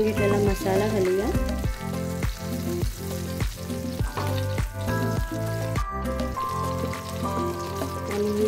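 Masala frying in oil in the same pan used for prawns, with Kashmiri red chilli powder, giving steady close sizzling under background music and occasional stirring.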